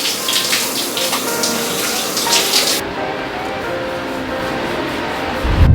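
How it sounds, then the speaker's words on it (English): A shower runs with a steady, full hiss of falling water that softens partway through and then keeps flowing evenly, with no talking. "end with a cold shower, then get ready."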